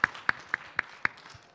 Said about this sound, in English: All right, round of applause for Mr.